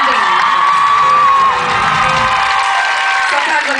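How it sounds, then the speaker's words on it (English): A concert audience at a show in Pomona cheering and whooping, a loud sustained crowd roar with shouts and some clapping, close and continuous. "Give her a round of applause."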